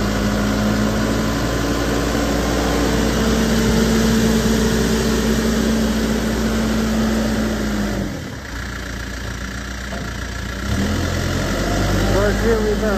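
2009 Case 580SM Plus II backhoe loader running in gear, its diesel engine holding a steady, close, loud drone with a brief dip and recovery partway through, as if shifting gears.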